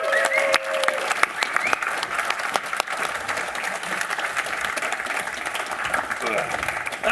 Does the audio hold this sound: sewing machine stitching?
no